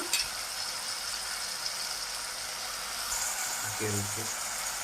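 Eggplant pieces frying in oil in a pan for a biryani side dish, a steady soft sizzle with occasional stirring clanks, while someone talks over it.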